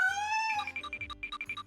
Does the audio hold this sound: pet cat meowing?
yes